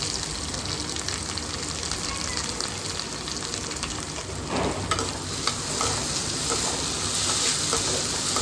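Chopped tomatoes cook in hot oil with salt for a green turkey berry curry, a loud, continuous sizzle with scraping stirs that grow busier toward the end.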